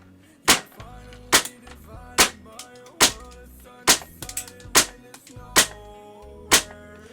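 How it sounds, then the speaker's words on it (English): An HPA-converted KWA airsoft gun fires BB shots, nine sharp single cracks spaced evenly about once a second, close and loud over a quiet background. "So yeah, done a few shots"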